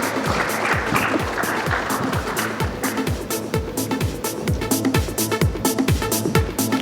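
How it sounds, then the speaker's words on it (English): An audience at an awards event claps steadily and loudly throughout, a dense wash of applause with distinct close hand claps standing out. "Ladies and gentlemen, big round of applause."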